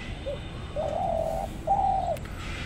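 A dove sitting on its eggs coos close by: a brief soft note, then two longer, mellow hooting coos, with no voices.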